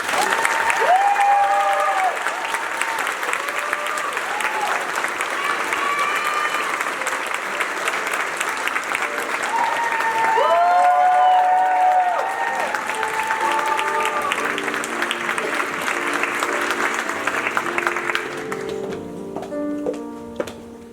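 A large audience applauds at a university commencement ceremony for graduating students, dense sustained clapping that continues for about twenty seconds, with voices and cheers mixed in, before thinning out at the end.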